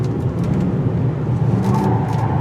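A 2018 Mitsubishi Outlander Sport spinning its wheels on a turning circle, a steady engine drone and tire rumble held at constant strain, close and continuous, with no speech.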